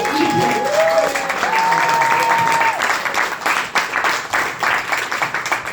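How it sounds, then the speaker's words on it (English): Loud, dense applause and clapping from a pub audience at a comedy night in Cardiff, sustained for several seconds and fading slightly toward the end, with some faint crowd voices mixed in. "we're going to keep the claps going, keep it going for Gilpin next time."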